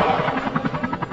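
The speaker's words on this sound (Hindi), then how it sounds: "अरे हेलीकॉप्टर की आवाज।" A helicopter's rapid rotor chop pulses steadily throughout, moderately loud and fairly close, with no one speaking.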